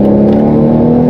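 Loud, always-open exhaust of a 380 hp Volvo V60 Polestar T6 on the autobahn, a close, steady droning rumble under acceleration that holds for about a second with no talk.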